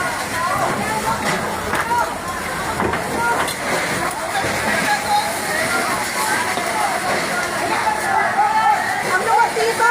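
Water from a hose rushes and hisses steadily onto a burning residential building during a fire in Tondo, Manila, with shouting and talk from people close by throughout.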